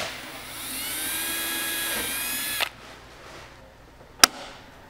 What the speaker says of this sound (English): Drill the second hole.